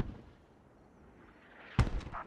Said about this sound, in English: I think mortars are just hitting off.